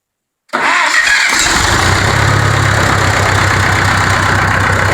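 A 1966 John Deere tractor, long abandoned on a farm and with a leaking mechanical fuel pump, cranks briefly and catches, then settles into a loud, steady idle close by.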